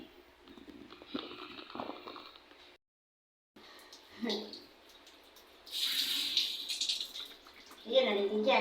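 Water from a hose runs into a small portable mini washing machine, a steady splashing flow broken by a brief gap, then louder gushing, with people talking over it.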